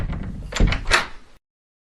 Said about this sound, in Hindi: ये दरवाजा कैसे खुल गया?